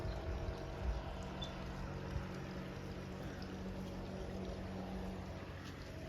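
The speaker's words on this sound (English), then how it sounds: "boat coming down the river" A pontoon boat carrying about five people motors down a high-running river, its low steady engine drone blending with broad water wash, heard at a distance and continuous throughout.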